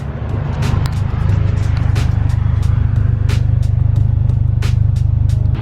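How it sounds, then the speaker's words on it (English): A 2007-2008 Honda Fit Sport with an aftermarket exhaust idles with a deep, steady exhaust rumble, close and loud, with a few sharp clicks and pops over the low drone. "I got an exhaust as well, so we can hear, so the vehicle is on right now"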